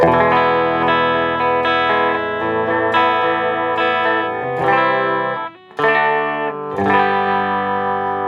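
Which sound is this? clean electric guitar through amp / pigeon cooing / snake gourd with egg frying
clean electric guitar through amp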